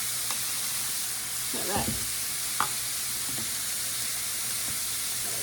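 Garlic sizzles steadily in a hot pan, a continuous close hiss with occasional stirring scrapes, and a voice speaks briefly over it.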